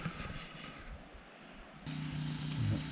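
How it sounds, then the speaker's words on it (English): A generator drones steadily at an evening campsite, a continuous engine hum that grows louder and more tonal partway through, with a low rumble beneath it and no voices. "Evening view of our campsite with a nice generator going on in the background"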